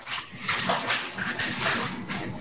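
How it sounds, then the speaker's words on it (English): A dog yelps and whines in short repeated bursts, fairly close, against a quiet room background with no talking. "I'm sorry about the barking dog."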